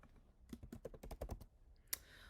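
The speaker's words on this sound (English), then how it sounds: "I'm just gonna go ahead and type them in" Someone types a name on a computer keyboard: a quick run of about ten close, crisp key clicks, then a brief pause and one sharper final tap, quiet and alone.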